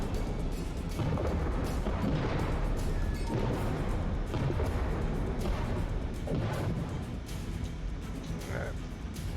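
Submarine deck gun firing at an enemy ship in the video game Diluvion, heavy booming shots repeating roughly every second over a dense underwater rumble, with voices talking over it.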